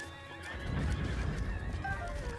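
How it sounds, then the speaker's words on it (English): Horses in Zelda Breath of the Wild neigh and whinny in terror, loud shrill cries rising over hoof clatter and a busy game din, with no voices. "Poor horses screaming in terror."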